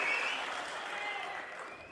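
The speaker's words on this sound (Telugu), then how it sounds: "ఉందంటే గట్టిగా చప్పట్లు కూడా చెప్పండి." Brief audience applause at a political public meeting held by a state chief minister, a dense wash of clapping from a crowd that fades slightly over about two seconds.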